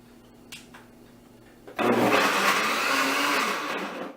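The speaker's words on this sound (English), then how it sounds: "Then we are going to blend it. You will need a blender." A blender whirs loudly through frozen ingredients for vegan instant ice cream, starting abruptly after a couple of faint clicks and running steadily, close and alone.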